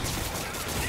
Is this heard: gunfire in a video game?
yes